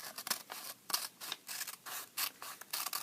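Scissors cutting paper along a line, a quick series of crisp snipping and rasping strokes close by, roughly a dozen rhythmic cuts with no talking.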